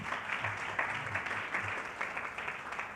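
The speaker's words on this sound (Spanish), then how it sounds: "Le brindamos aplausos a ellos, por favor." An audience at a panel session on investment promotion applauds, with steady, even clapping from many hands sustained for a few seconds.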